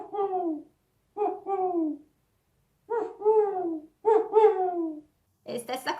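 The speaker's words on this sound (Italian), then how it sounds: "gufare o bubolare per il verso del gufo" An owl gives a series of clear, mellow hoots, each a short pair of wavering notes separated by pauses. Four calls sound close and distinct against silence, followed by a brief, harsher burst at the end.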